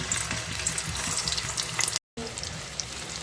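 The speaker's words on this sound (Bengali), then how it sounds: "তেলটা গরম হয়ে গেছে এবার আলুগুলোকে ভালো করে ভেজে নেব আমি" Potatoes fry in hot oil in a wok, giving a close, steady broadband sizzle that runs without pause apart from one brief dropout.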